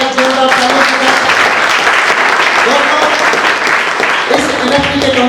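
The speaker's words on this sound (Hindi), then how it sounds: "सर प्लीज स्वागत किया जाए हमारे सर का एक जोरदार तालियों के साथ।" An audience at a crypto event gives a guest a loud, sustained round of applause, with voices and tonal sound mixed in under the dense clapping.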